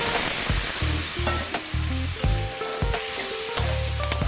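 Freshwater snails sautéing in a pan give a loud, continuous sizzle close up. Periodic scrapes and knocks of stirring sound over it, and no one speaks.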